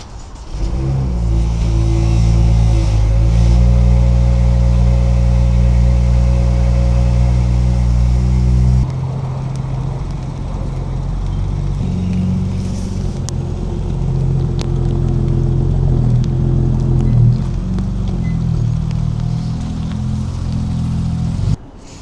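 A BMW M2 with a newly installed low front lip drives to a parking lot, its engine a loud, steady rumble that shifts to a lower, rougher drone about midway as the car slows or changes gear.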